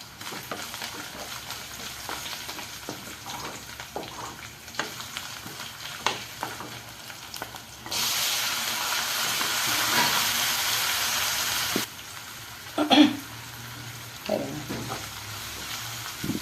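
Ginger garlic paste, onion and tomato sauté in a pan with steady low sizzling and scattered stirring clicks. A louder, broad hissing burst lasts several seconds in the middle, then drops back, followed by a few clearer scrapes near the end.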